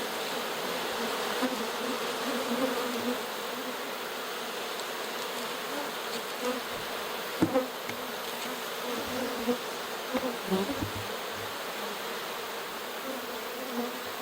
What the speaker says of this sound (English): Bees are everywhere.